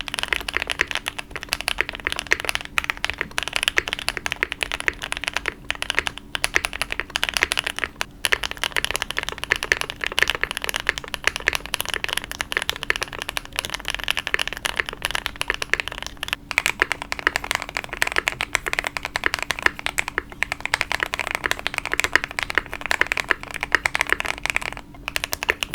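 Steady fast typing clatters on a VAS60 mechanical keyboard fitted with GMK keycaps, the dense keystrokes running alone and close for the whole stretch.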